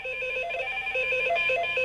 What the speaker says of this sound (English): I don't think I can miss the phone ringing now.